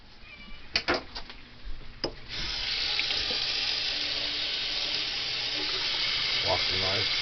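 Tap water runs steadily into a kitchen sink while a knife is washed during salmon and potato prep, a constant close hiss after a few clinks and knocks at the start.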